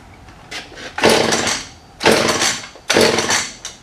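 Husqvarna 435 chainsaw on full choke pull-started three times, each long ratcheting rip of the starter cord followed by a brief decay, close and loud with no engine catching.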